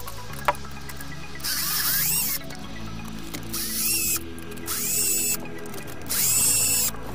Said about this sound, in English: you've got to remove those 4 screws to be able to remove the servo